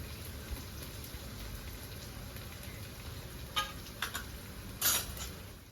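Fifteen to twenty garlic cloves frying together with two medium chopped onions in a pan, a soft steady sizzle with a few sharper crackles and pops near the end.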